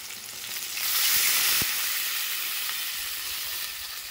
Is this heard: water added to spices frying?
yes